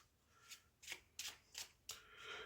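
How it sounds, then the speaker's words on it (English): A deck of tarot cards being shuffled close up, five quick crisp riffling bursts in an uneven rhythm, soft and with nobody talking. "So I just like to shuffle all the cards on the camera after reading the card that you have picked up."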